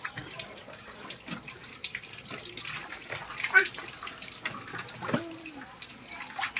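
A kitchen tap runs at a weak, low flow while dishes are washed, a thin trickle and splash with scattered clinks and faint voices nearby.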